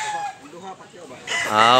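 A rooster for sale at a Consolacion, Cebu market crows loudly up close after a stretch of softer clucking, with some voices mixed in.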